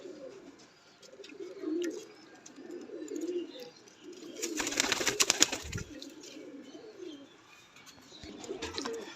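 Pigeons coo close by in repeated soft, low rolling phrases, with a sudden burst of wing flapping and rustling midway before the cooing resumes.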